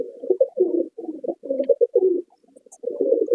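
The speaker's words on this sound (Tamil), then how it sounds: "பழைய வெள்ளை லைனேஜ் புறா" Old white lineage pigeons coo close by in soft, throaty repeated bursts with short pauses between them, alone without talk.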